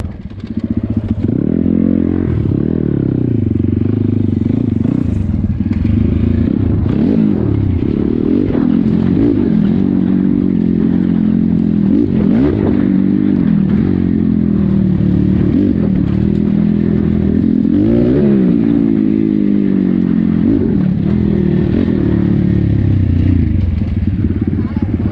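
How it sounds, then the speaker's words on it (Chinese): Small motorcycles ride over a rough, difficult road, their engines droning loudly and steadily up close with repeated rises in pitch, rattling and scraping along the way. "还有一辆小摩托，后面还有一辆两辆"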